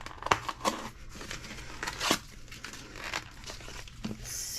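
Plastic packaging around infusible ink coasters is handled and pulled open at close range, giving soft continuous crinkling with several sharper crackles and tearing bursts, fairly quiet and with no talking.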